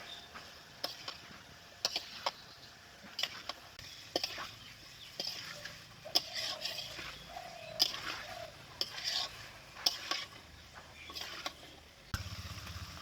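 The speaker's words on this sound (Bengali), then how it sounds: "এখন এঁচড়ের আলুটাকে মশলার সঙ্গে খুব সুন্দর করে কষিয়ে নেব" Boiled jackfruit and potato are sautéed with spice masala in a pan, heard as a quiet, sparse sizzle broken by repeated clinks and scrapes of a spoon against the pan, fairly close.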